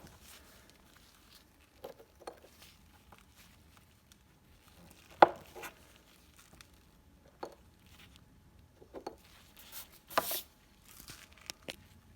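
Sodium metal is cut into small pieces with a blade, giving sparse, soft crunching and squishy cutting clicks at irregular intervals against a near-silent background, close and faint.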